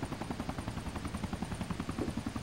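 A helicopter passing nearby, its steady rapid rotor chop and engine roar filling the scene at a constant level, with no voices.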